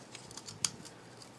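A single crisp snip of scissors cuts through copper wire with a silver finish, one brief sharp click in an otherwise quiet room.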